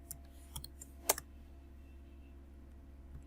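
A few sparse keystrokes click on a computer keyboard close by, with one sharp tap standing out, over a steady low electrical hum and no talking.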